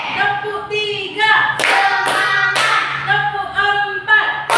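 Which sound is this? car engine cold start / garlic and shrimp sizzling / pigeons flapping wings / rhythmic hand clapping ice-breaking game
rhythmic hand clapping ice-breaking game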